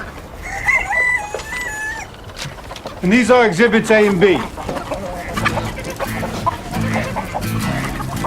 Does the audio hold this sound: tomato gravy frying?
no